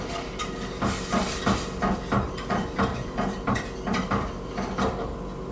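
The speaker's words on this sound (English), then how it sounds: "I'm gonna stir this a little now." Macaroni cheese stirred in a pot, with a spoon knocking and scraping against the sides in a steady rhythm of about two strokes per second, close up with no talking.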